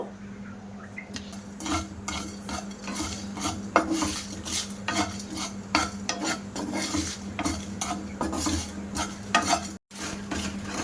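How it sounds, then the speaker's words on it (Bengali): Dry spices and chillies are stirred and scraped around a hot pan with a metal spoon, a steady rhythm of clinks and rattles over a low background hum. "এই মশলাগুলো আমি ভাজা করে নেব"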